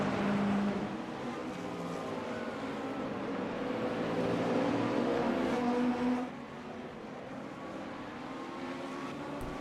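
Acura and BMW race cars in a sim racing endurance event at Sebring produce a steady, droning engine roar that sustains throughout, then drops slightly in level near the end.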